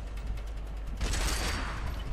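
Patented combination rifle-shotgun in a video game, fired in rifle mode, letting off a rapid loud burst of shots that blend into a dense crackle, preceded by quieter mechanical rattling.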